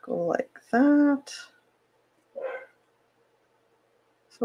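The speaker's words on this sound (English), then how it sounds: "Sorry about the barking." A small yappy dog gives a couple of sharp barks and a yip indoors, close by, interspersed with a person talking quietly, then falls silent.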